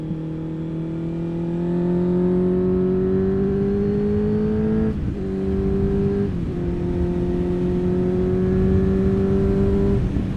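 A 2023 Honda CBR 650R motorcycle's engine drones loud and close as it is ridden, pitch climbing steadily through a gear, dipping briefly at two shifts, then holding a steady higher note.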